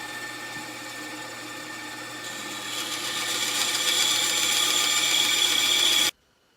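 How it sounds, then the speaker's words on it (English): Woodworking bandsaw making relief cuts in wood for a fishing rod rack, a steady whining hum that rises in intensity as the blade bites, then stops abruptly. "Got the throat of the bandsaw spaced enough that we can get through there, and yet it still supports it. So we're going to start cutting."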